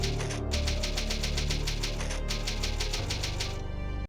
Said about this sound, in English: the sound that the Typewriter makes as it's saving your game and typing out the file name